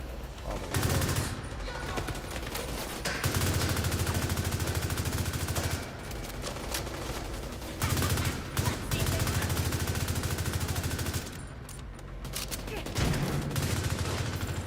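Repeated bursts of rifle fire from long-range sniping in The Division 2, loud and sharp shots coming in clusters across the stretch with brief gaps between volleys, game audio dense throughout.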